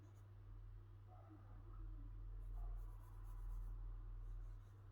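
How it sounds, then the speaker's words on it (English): Graphite pencil strokes rub back and forth on paper while shading a bird's breast, a soft, close scratchy texture over a low steady hum, with no talk. "with a pencil, actually, you can go up and down"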